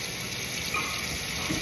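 Hot water runs steadily from a faucet into a sink in a barn, a continuous close gushing rush with no pauses.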